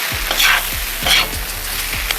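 Pearl barley and meat sizzle steadily in a cauldron while a utensil scrapes and stirs through it in repeated strokes, close and loud, with no one speaking.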